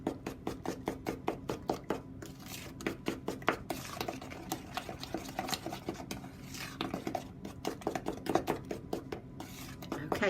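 Eggs being beaten in a bowl for Victoria sandwich cake batter, with quick, steady rhythmic tapping and scraping strokes continuing close up throughout, no talking.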